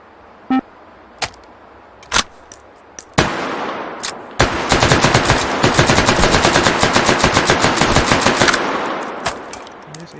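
Machine gun in a video game firing AP incendiary tracer rounds: a few isolated single shots, then a loud, sustained rapid burst of automatic fire lasting several seconds before stopping, followed by scattered echoing cracks.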